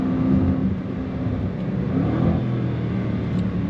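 The 2026 Jaguar F-Pace SVR 575 Edition gives a deep, steady exhaust rumble from inside the cabin, a continuous low drone at moderate loudness with no talk.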